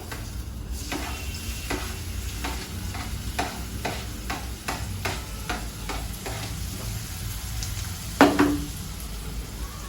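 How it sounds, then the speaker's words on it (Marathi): Onion fries in oil in a home kitchen, a soft steady sizzle under repeated scraping stirs of a spatula against the pan, with one louder clatter of utensils near the end. "तेलामध्ये मस्त कांदा फ्राय करून घ्यायचा"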